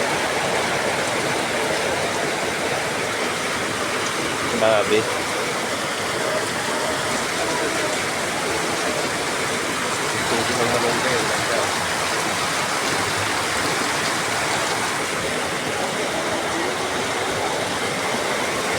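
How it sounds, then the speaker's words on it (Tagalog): Heavy rain pours onto a metal roof during the first downpour of May, a dense, steady hiss and drumming that never lets up, with a short spoken exclamation midway. "lakas ng ulan"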